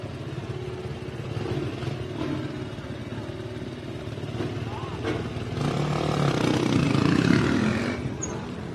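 A KTM race motorcycle idles and revs at the start line of the Baja 1000 off-road race, its engine rumbling at mid distance and swelling louder toward the end, with an announcer talking over it.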